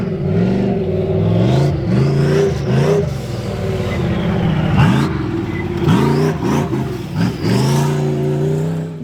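A Nissan Silvia built into a trophy truck with a 5.3 LS V8 revs hard from inside the cab, a loud continuous engine roar that climbs and drops through repeated throttle blips and shifts, with no talk.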